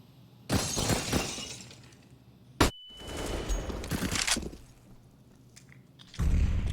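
Glass shattering in Counter-Strike on the Train map, heard as bursts of breaking glass and crashing debris mixed with sharp gunfire-like cracks, loud and close, spread across several seconds without voices.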